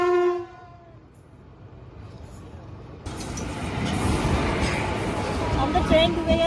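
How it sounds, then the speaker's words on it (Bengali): A train horn sounds at the start, then a train pulls into a station platform with a steady, building rumble and rattle of wagons. "আমরা ট্রেন ঢুকে গেছে"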